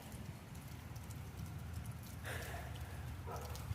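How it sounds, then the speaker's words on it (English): Rain falling outdoors during a thunderstorm, a steady dense hiss of drops throughout with a low rumbling undertone and a slightly brighter patch of patter partway through. "It's raining and thundering and lightning."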